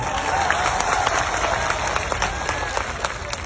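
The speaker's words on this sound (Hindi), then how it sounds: "एक बार जोरदार ताली बजानी तो इनके लिए बताओ" A large audience at a mahapanchayat in Mewat claps loudly and continuously, with crowd noise and scattered sharper claps standing out in the mix.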